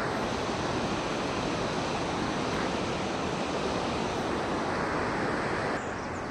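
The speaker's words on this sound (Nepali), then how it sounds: "यो माथि धौलीदेखि आउँछ यो नदी चाहिँ" A river coming down from Dhauli rushes in a loud, continuous broadband roar that stays steady throughout with no voices.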